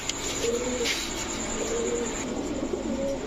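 Racer pigeons, male and female pairs, coo softly in a few brief murmuring calls over a steady hiss of background noise.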